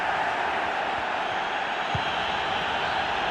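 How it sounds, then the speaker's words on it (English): A FIFA 22 video game stadium crowd during a Lazio Europa League group match gives a steady, dense roar, a continuous wash of massed voices with no break. "The crowd certainly think so. Just listen to them."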